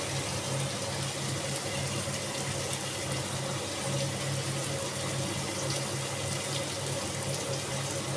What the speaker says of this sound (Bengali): এবার আমি মিক্সির জারটা ধুয়ে আমি জলটুক দিয়ে দিলাম।